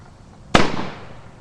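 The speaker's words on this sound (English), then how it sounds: "Sorry for the explosions." A single firework or firecracker goes off with a sharp, loud bang. A brief rumbling tail fades out afterward, and no one speaks.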